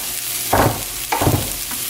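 A vegan sausage patty fries in a skillet while a utensil stirs it, giving two or three close, loud scraping strokes over a steady sizzle.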